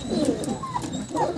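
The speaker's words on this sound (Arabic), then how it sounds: "القعده مع الحمام ملهاش حل صراحه" Pigeons coo softly in a loft among young chicks, with a few low, throaty warbling calls coming close together and some faint chirps mixed in.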